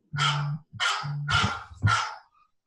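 A phone ringtone that mimics a dog barking gives four evenly spaced, loud, close bark-like bursts, each with a low droning undertone, then stops.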